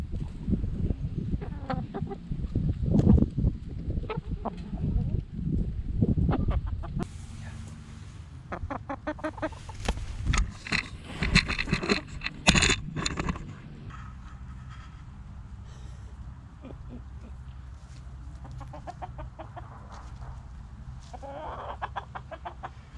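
Hens and roosters cluck busily inside a henhouse, a dense, close flock chatter that is loud and lively at first, then settles into steadier, softer clucking.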